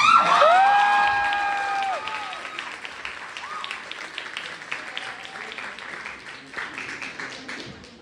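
An audience in a school speech showcase breaks into applause as performers are welcomed to the stage; a burst of clapping and cheering swells at the start then tapers to scattered claps, with a voice briefly heard over it.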